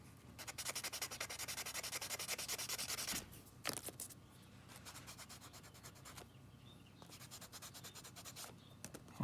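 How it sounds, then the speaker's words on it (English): Kneaded eraser rubbing over a charcoal drawing on paper, quiet close-up rapid back-and-forth strokes in bursts with short pauses between passes, no talking. "Or the kneaded eraser just to lift off a little bit."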